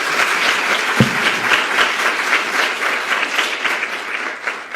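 An audience at an awards ceremony for behavioral and social sciences honors gives the awardees a sustained round of applause, dense and even clapping from a large crowd with no talk over it.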